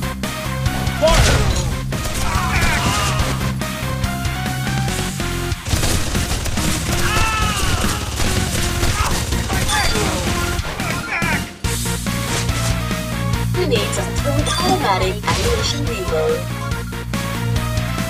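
Gunfire in the mobile game Contra Return, continuous dense shooting and crashing impacts over steady game music for about eighteen seconds, with voice prompts.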